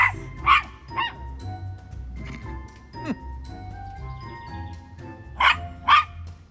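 A jealous dog barks in short, sharp yips: a pair near the start, a softer one after, then two more close together at the end, over a quiet room.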